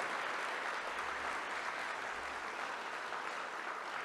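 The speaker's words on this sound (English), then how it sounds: "Another hand of applause for Linda Tache." An audience at a seniors' honors event applauds in a steady, continuous wash of clapping, heard faintly and at a distance, with no talk over it.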